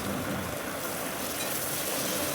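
Dried chili, black cumin, chopped garlic and onion fry in hot oil, a dense, steady sizzle that stays close and loud for the whole stretch, with no voices.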